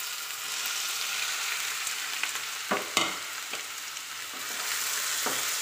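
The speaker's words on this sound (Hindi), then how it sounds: "अब इसको अच्छी तरह हिलाएं और भूनने तक पकाएं। प्याज को हिलाते रहिए" Chopped onion with a bay leaf fries in hot oil, giving a constant close sizzle broken by a few sharp scrapes and knocks of a spoon stirring; no voices.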